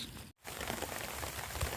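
Rain patters steadily on a tarp stretched over a winter hammock camp beside a fire, a dense close hiss with a brief dropout near the start and no voices.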